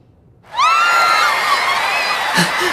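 Friends scream hysterically in victory, several high voices bursting in loudly together after a short quiet lead-in and holding a shrill, wavering cry to the end.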